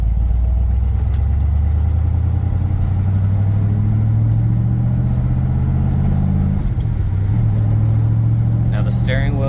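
Steady low rumble of a 1965 Chevrolet Corvette's engine under way on a test drive, heard from inside the car with constant road and wind noise.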